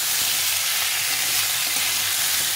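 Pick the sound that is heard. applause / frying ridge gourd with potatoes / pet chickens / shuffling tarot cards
frying ridge gourd with potatoes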